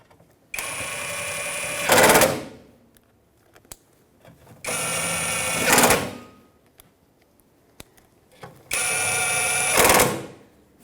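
Headlight screws being run down on a 2012-2019 Fiat 500, three separate bursts of a whirring driver, each about a second and a half long and ending in a harsher rattle, with quiet gaps and small clicks between them.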